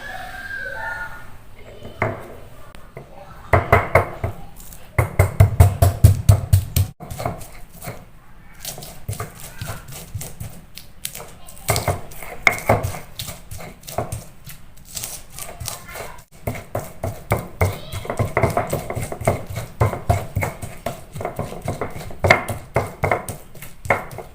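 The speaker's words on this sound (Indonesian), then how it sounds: "untuk bumbunya ada bawang merah dan bawang putih ya, kita ulek ya" Rapid uneven pounding of a stone pestle crushing shallots and garlic in a mortar, sharp knocks in bursts with short pauses, close up; a voice is faintly heard among the strikes.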